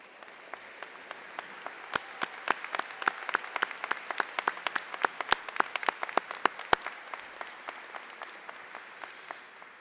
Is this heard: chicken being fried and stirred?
no